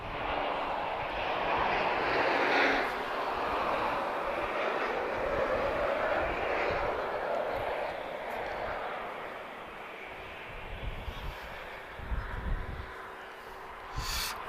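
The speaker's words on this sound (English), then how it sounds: "This is an Embraer E190 long range. She's just arriving from Marseille." TAP Express Embraer E190 arriving at Lisbon Airport from Marseille, heard as a moderate, steady jet engine rush with low rumble that gradually fades, from some distance, without talk over it.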